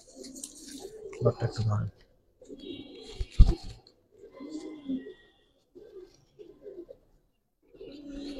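Pigeons coo and rustle while being handled in a loft, with short low bursts and wing flutters scattered between Bengali speech and brief silences.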